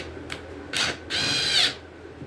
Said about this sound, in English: let me get this nut driver in there, and we'll get this lag started